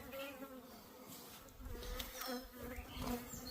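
Honeybees buzz around a homemade hive built from scavenged trash foam they have chewed through, a steady close humming drone with individual bees flying past, no talk.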